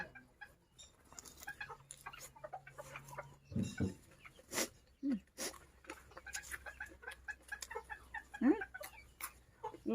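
Bantam chickens cluck and squawk intermittently in an open rural field, with short calls scattered over quiet background noise.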